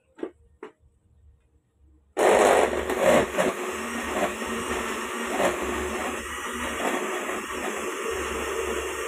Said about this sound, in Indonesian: Baru kita blender.